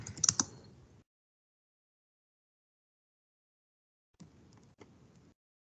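Typing on a computer keyboard comes in two short bursts, a second of quick close key clicks, then silence, then another run of lighter taps about four seconds later.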